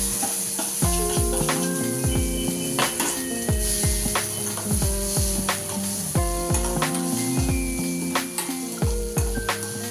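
Onion sizzling and frying in a pan for a tomato Maggi snack, a steady close crackle with occasional clinks of a utensil against the pan.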